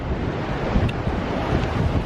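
North Sea waves on the shore at Whitby, a continuous loud wash of surf mixed with wind buffeting the microphone, with no voices.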